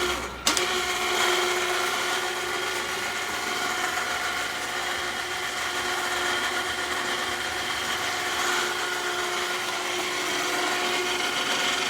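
Motorized trailer dolly motor powered from a jumper box, a continuous steady electric motor whine and mechanical hum running at even speed after a sharp click at the start.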